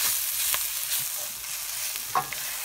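Quick stir of turmeric and coriander powder into chicken pieces in a hot pan: a few scraping strokes over a steady soft sizzle, close and moderately loud, with no voices.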